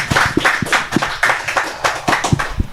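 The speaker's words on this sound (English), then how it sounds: "A round of applause for them." Audience at a Bali property market talk event clapping for guest speakers, with brisk, uneven hand claps from a small group close by.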